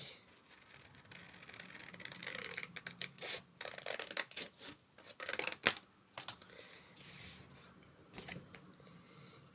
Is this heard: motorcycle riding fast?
no